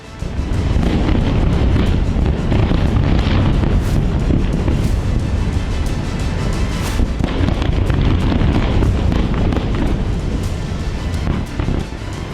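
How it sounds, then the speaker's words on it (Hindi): A loud, sustained roar of blast noise near Beirut airport fills the whole stretch, dense and rumbling with crackling bursts throughout. "ब्लास्ट कितना तेज था इस बात से अंदाजा लगा सकते हैं कि एयरपोर्ट के करीब 7 किलोमीटर दूर सिन एल फिल इलाके तक इसकी आवाज सुनाई थी"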